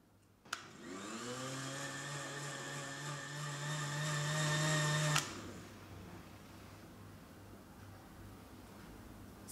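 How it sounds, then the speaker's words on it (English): A blender in an interactive art installation switches on with a click and roars with a loud, close motor whir that climbs in pitch for about four and a half seconds, then cuts off abruptly, leaving quiet room tone. "when you turn on the blender, she actually spins around faster and faster"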